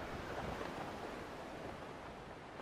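Waves wash steadily onto a shoreline, a broad continuous rushing hiss with gentle swells, softly blended with wind and no voices.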